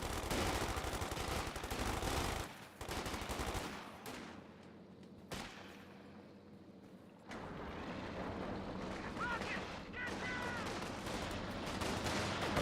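Squads trade gunfire in the WWII strategy game Company of Heroes 2, with loud sustained machine-gun and rifle bursts, a brief lull of sparse shots, then renewed heavy firing to the end.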